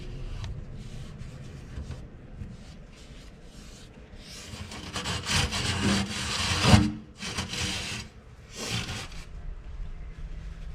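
Old plumber's putty being scraped off a kitchen sink around the basket opening: soft rubbing and scraping strokes, faint at first, then louder rasping passes in irregular bursts, close and without talk.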